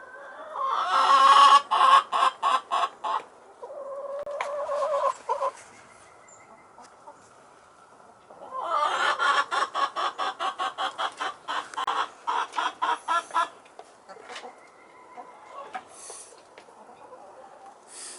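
Backyard chickens scratch and dig at the ground while clucking close by in loud, choppy bursts of rapid repeated calls. Quieter pauses separate the bursts, and one longer stretch of clucking runs through the middle.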